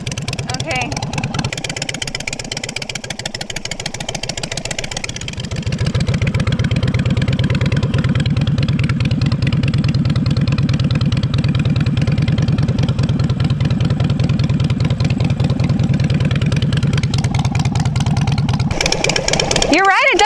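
A Harley-Davidson Iron 883 motorcycle engine idles steadily and close, a low throbbing rumble that grows fuller after a few seconds and runs on evenly.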